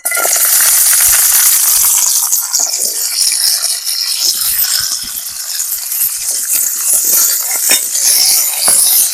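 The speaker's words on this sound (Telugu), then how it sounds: "నూనె బాగా కాగిన తర్వాత పచ్చిమిరపకాయలు అయితే వేసుకుందాము" Green chillies frying in hot oil give off a steady, loud sizzle and crackle that runs unbroken from start to finish, with no voices.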